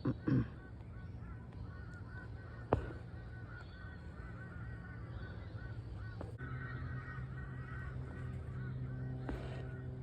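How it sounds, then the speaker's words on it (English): Harsh bird calls, several caws and honking cries scattered across a quiet outdoor background, fairly distant with a couple of louder nearby calls. "the crows are really at it today"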